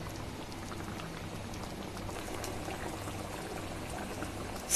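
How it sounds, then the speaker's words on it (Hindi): Small pieces of paneer simmer in a pot of boiling liquid, a steady low bubbling and gentle popping that carries on evenly at close range with no talk. "इसको हम 3 मिनट तक उबालेंगे।"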